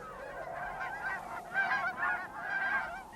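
A flock of geese arrives at the Rainwater Basins in late winter, their honks overlapping in a loud, continuous chorus with several calls rising and falling together.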